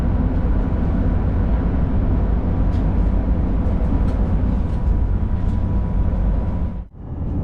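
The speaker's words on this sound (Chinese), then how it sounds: "火车终于来了啊，动车啊" A high-speed bullet train pulls into a station on a freezing day, a loud, continuous close rumble that holds steady before cutting off sharply near the end.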